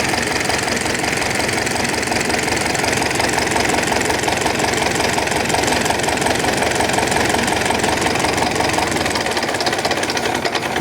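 An engine idles steadily without stalling, a loud continuous knocking rumble with an even rapid beat throughout, close by and running alone with no voices.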